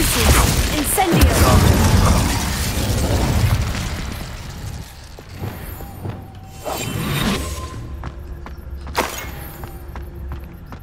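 Spell casting and explosions in the video game Hogwarts Legacy, a loud rumbling blast followed by bursts, pops and whooshing effects, with a voice shouting over them.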